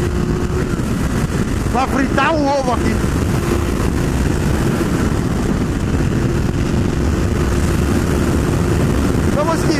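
Honda Hornet motorcycle engine droning steadily at highway speed, loud and close with heavy wind roar, while the rider talks over it throughout.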